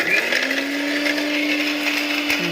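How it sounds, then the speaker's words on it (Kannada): A kitchen mixer grinder whirs steadily, grinding roasted gram chutney powder ingredients with chili, a continuous motor whine held at an even, loud level with a slight dip in pitch near the end, no voices present. "ಮಿಕ್ಸಿ ಮಾಡ್ತಾ ಇದ್ದೀನಿ"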